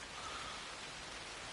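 Steady rain falling at night in the video game Assassin's Creed Shadows, a dense, even hiss of downpour that holds constant throughout, with no voices over it.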